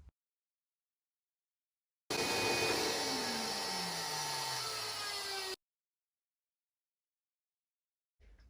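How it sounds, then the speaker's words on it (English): A CNC router cuts a wooden sign, a loud steady whine with a high machine tone and sweeping pitch changes as the bit moves. It runs alone for about three and a half seconds between stretches of near silence. "Now I'm going to start up the CNC again"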